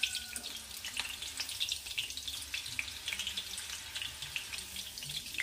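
Ingredients for murmura chiwda frying gently in oil over low heat, a soft, irregular bubbling sizzle with small crackles and pops, fairly faint and close.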